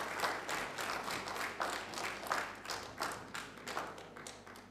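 A small audience at an innovation champions event for local economic development applauds a guest, producing uneven, fairly quiet clapping in loose surges with a few heavier thudding claps, and no talking.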